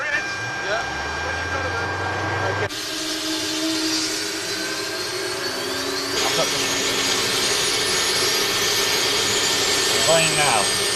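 Avro Vulcan bomber jet engines run up on their first live run, a loud rising whine and roar that climbs over the whole stretch, with voices talking faintly beneath.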